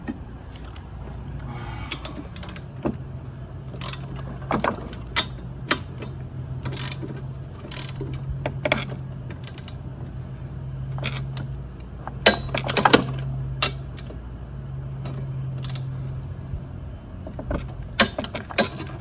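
A wrench tightens the bolt holding a lawn mower blade, giving repeated sharp ratcheting clicks and metallic ticks in irregular bursts over a low steady hum, close and fairly clear.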